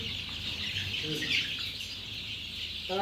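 Native free-range chickens cluck and a rooster calls amid a noisy outdoor poultry farm of about 2000 birds, with faint voices and bird chatter in the background.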